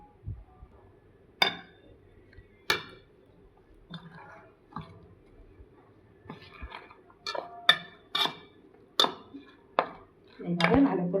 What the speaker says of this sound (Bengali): এখন ভালো করে মেখে নিব সবগুলো